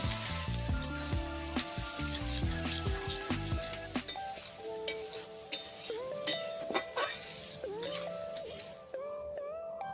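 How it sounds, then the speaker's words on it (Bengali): Sliced onions fry with cinnamon and peppercorns in a pan for a meat curry, a continuous sizzle with light clinks of a utensil, playing under prominent background music throughout. "কেটে রাখা পেঁয়াজগুলো এর মধ্যে দিয়ে ভালো করে ভেজে নেব"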